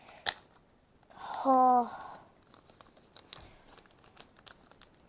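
A plastic bag of putty foam tears open with a brief, loud crinkling burst, followed by faint rustling; a voice briefly exclaims.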